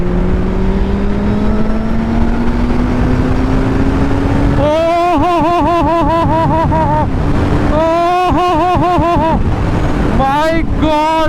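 Kawasaki Z800 inline-four motorcycle engine rising steadily in pitch, then revving hard through repeated sharp throttle blips and gear pulls, loud and close, with wavering high-revving howls.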